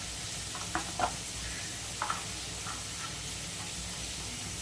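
Spices tipped one by one into a hot frying pan, a steady bright sizzle and hiss with a few light clinks of stirring, close and continuous.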